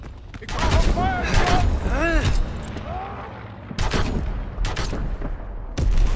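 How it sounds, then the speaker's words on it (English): Rapid bursts of gunfire aimed at infantry near a tank in the game Call of Duty: WWII, loud cracking volleys repeating alongside shouted voices and battle noise. "They fire on the infantry by the tank."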